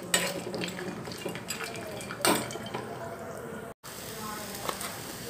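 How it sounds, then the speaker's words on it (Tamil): Cashew nuts roast in ghee in a pan with soft sizzling and occasional scraping and clinking of a spoon against the pan, faint and close. "இப்போ முந்திரி பருப்பு போட்டு வறுத்துக்கலாம்"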